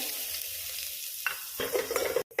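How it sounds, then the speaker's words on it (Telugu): Thinly sliced onions hit hot oil with mustard seeds and cumin in an electric rice cooker, a low crackle that jumps into a loud, bubbling sizzle with stirring, then cuts off abruptly. "సన్నగా కట్ చేసుకుని ఉల్లిపాయలు వేసుకోవాలి"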